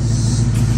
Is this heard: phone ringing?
no